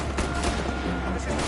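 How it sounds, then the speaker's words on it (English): Gunfire in Mafia: Definitive Edition: a handful of sharp shots spread across a noisy, busy scene, with a voice speaking in between. "They're shooting."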